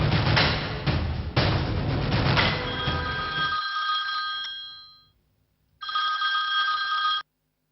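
A mobile phone rings with a bright electronic tone, following a burst of noisier sound at the start. The ring fades out, falls silent briefly, then starts again for a few seconds before stopping.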